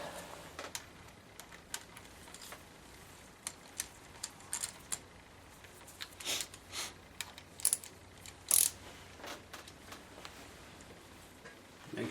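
A ratchet clicks in scattered short bursts while head bolts are tightened on a Mercedes-Benz W202 C280 M104 engine, close but fairly quiet, with irregular metallic ticks and a few sharper clacks.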